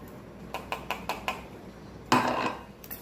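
A spoon clinks against a bowl several times in quick succession while ground thandai masala powder is mixed, followed by a louder scraping clatter, close and otherwise quiet.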